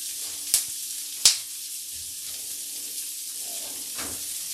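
Shrimp on a grill give a steady, soft sizzle, broken by two sharp clanks early on and a brief louder hiss near the end.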